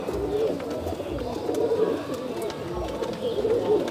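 Khulna red-necked pigeons coo in a loft, with low rolling calls repeating close by in a steady, overlapping murmur.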